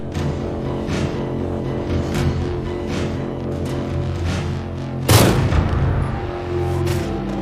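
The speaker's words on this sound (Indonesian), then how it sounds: "dengan senapan Black King-nya dia berhasil menumbangkan lawan yang sedang menuju ke arah O'Brien" Sniper rifle gunfire in an action film scene, loud booming shots with one sharp heavy blast standing out amid a dense, continuous rumbling soundtrack.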